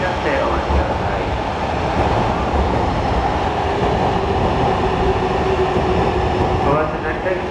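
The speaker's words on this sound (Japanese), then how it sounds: "信号開始で発車です。" A 485 series train on its final-day Nikko No. 1 run pulls out of Shinjuku station, its rumbling wheels and motors rolling steadily and close, with faint station voices in the background.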